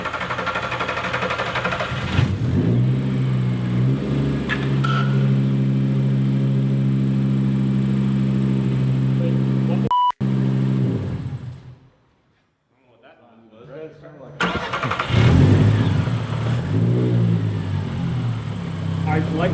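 A swapped-in VW five-cylinder engine running in a truck, droning steadily with a strong harmonic hum, cutting out abruptly into near silence, then firing back up and revving higher.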